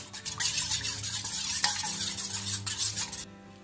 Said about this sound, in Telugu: ఇది ఉండలు లేకుండా కలుపుకోవాలి.